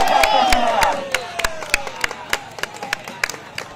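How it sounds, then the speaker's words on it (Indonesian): Crowd at an outdoor volleyball tournament match claps and cheers continuously, a dense wash of applause with sharp individual claps and shouts, fairly loud and steady throughout. "tepuk tangan tidak henti-henti terdengar sore hari ini"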